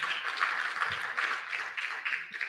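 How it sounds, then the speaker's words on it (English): Steady applause from an audience at the Ghana-Bahamas investment summit, a dense continuous patter of clapping held at a moderate, even level throughout without any talk over it. "Let's give him another round of applause."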